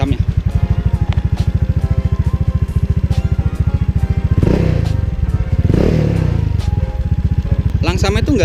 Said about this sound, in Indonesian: Langsamnya tuh nggak kenceng gitu, nggak keras gitu, dan adem juga gitu.